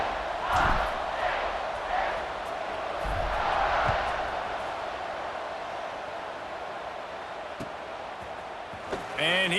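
Steady roar of a stadium crowd in an American football video game, a Minnesota dynasty game, holding a broad loud wash with swells of cheering near the start; a voice breaks in briefly at the end.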